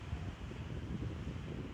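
Wind buffets the microphone during a paragliding flight, a short, faint, steady low rumble with no voices.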